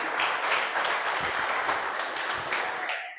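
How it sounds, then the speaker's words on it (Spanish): Church congregation applauding after a Spanish-language sermon, a short burst of many hands clapping together that fades out within a few seconds, fairly faint and without voices. "Un aplauso a Cristo."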